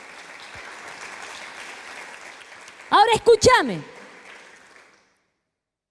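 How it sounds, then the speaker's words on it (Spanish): Steady applause from a church congregation fills the room for several seconds, then a voice speaks briefly over the fading clapping before it stops into silence. "¿Cuántos le damos una aplauso al Señor?"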